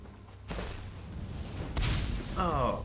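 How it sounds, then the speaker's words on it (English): During Elder Scrolls Online play, a lightning bolt spell strikes the player from behind with a sudden crackling boom and whoosh, followed by a second impact burst amid continuous game noise and a voice. "Oh, hit in the back with a lightning bolt."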